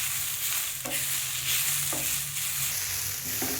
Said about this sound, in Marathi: कांदा गोल्डन ब्राउनिश झाला की त्यात लसूण थोडा भाजून घ्यायचा।